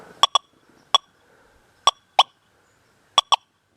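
A Gold Field Bird Dog metal detector set to sensitive FT sounds off over nails: three pairs of sharp, bright electronic blips spaced about a second apart, clear and close against near silence.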